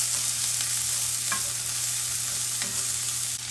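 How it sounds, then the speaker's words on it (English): Spinach and shallots frying in olive oil in a pan, a steady close sizzle with a few soft stirring scrapes over a constant low hum. "I'm going to put a little olive oil in the pan, add some shallots,"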